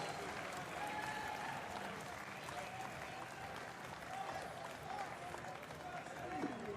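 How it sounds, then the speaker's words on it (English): Applause from a crowd at a military adaptive sports powerlifting competition after a failed lift, steady and broadband throughout, with an announcer's voice and crowd noise mixed in. "Round of applause for Ryan Roberts."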